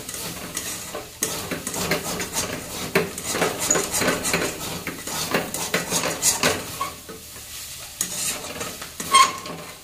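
Pumpkin, potato and fish cooked in a pan, with a utensil scraping and stirring steadily against the metal over a continuous sizzle, close and fairly loud throughout.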